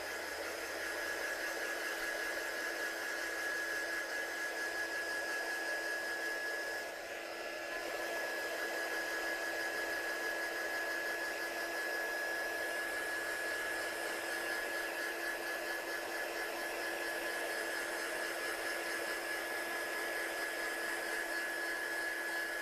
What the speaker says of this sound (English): I'm just going to dry that one off a little bit because I'm mucky paws.